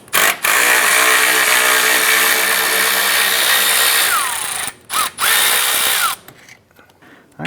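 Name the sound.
10mm socket removing Acura TL lower fan bolts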